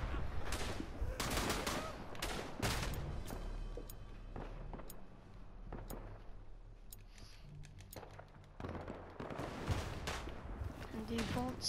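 Gunfire in a Battle of the Argonne video game, scattered sharp shots and short bursts, some close and some distant, with a voice talking over them.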